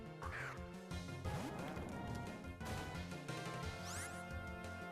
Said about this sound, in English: Was I hearing seagulls?